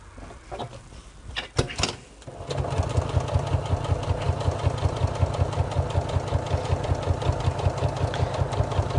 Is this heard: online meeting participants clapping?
no